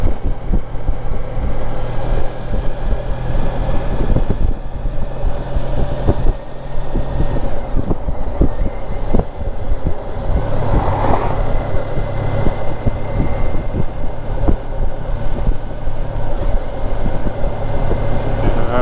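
Honda ST 1300 touring motorcycle riding along, a steady low engine drone with rumbling wind and road noise throughout, loud and close, with no talking.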